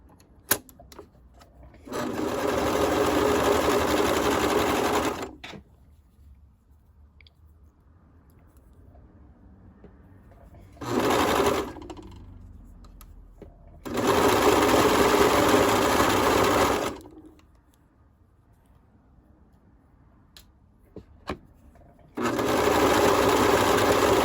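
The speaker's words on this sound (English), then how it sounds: "Now that both pant legs are sewn" A sewing machine stitching the legs of jogger pants runs in three long, steady bursts and one short burst, with quiet pauses between them and no talk.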